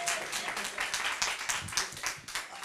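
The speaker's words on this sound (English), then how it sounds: "Yeah, go ahead, clap for it." An audience claps at an Orlando Alzheimer's event on diversity in clinical trials, with brisk, dense applause that holds steady for a few seconds and no voices on top.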